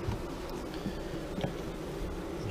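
Honey bees hum steadily around an open hive during a beekeeper's inspection, a close, continuous low drone with no talking.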